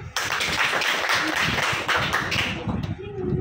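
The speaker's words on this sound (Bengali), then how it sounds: "আমার ভাই পার্থর জন্য একটা হাততালি।" A group claps for a student during a live classroom quiz session, producing a dense, close patter of hand claps that lasts a few seconds with voices mixed in.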